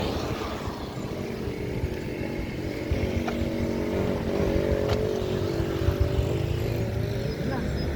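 A motorcycle engine with a rattling fault drones steadily and continuously close by, while people talk over it.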